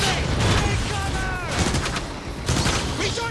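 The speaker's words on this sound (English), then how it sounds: "Deploying a grenade." A grenade blast in the Transformers: War for Cybertron video game, amid rapid bursts of gunfire and synthetic weapon tones, loud and busy, with a voice speaking briefly.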